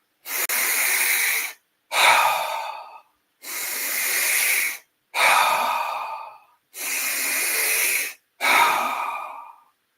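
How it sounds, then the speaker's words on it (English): Funnel breathing: three full, deep inhales, each followed by a passive, released exhale, close and loud, alternating in a slow, even rhythm with short silences between breaths and no talking. "So funnel breathing is just like this."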